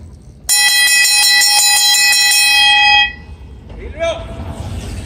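A bell rung for the bell lap of an indoor bike race at a velodrome training center, a loud sustained metallic ringing for about two and a half seconds that then stops, followed by a quieter voice.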